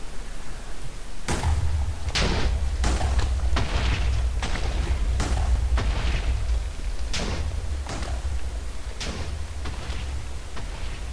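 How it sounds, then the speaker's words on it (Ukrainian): Minecraft TNT goes off in a string of about a dozen booming blasts over a low continuous rumble, each explosion sharp and heavy and spaced roughly a second apart. "можна вибухівку підпалити ось так. Ой. Ой! І вона здетонує."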